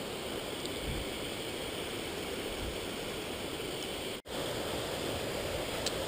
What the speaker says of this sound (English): There's a fantastic waterfall there.